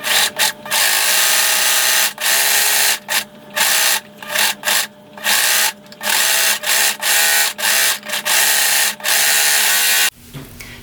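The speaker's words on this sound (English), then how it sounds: "Now I'm going to sew this seam with either a serger or a zigzag and a 3/8 inch seam allowance." A sewing machine runs a serger or zigzag stitch along a T-shirt seam in loud, rapid bursts of whirring, stopping and starting many times, with short pauses between runs.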